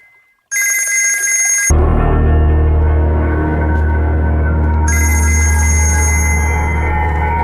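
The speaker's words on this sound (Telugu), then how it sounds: "రషీద్ భాయ్ ఫోన్ ట్రై చేస్తున్నాడు." An electronic telephone rings in a Telugu film comedy scene, its bright warbling tone sounding in two bursts separated by a gap, over a loud, continuous low rumble of background score.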